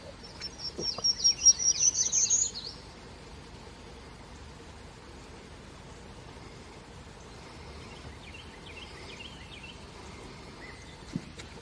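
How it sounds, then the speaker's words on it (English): Prairie warbler song outdoors, a rising series of thin, buzzy notes delivered in a quick burst near the start, then a quieter, more distant repeat of the phrase over a faint steady background hiss. "It is a prairie warbler."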